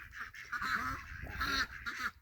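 Several ducks quack in short repeated bursts among chickens, fairly close and moderately loud, with brief gaps between the calls.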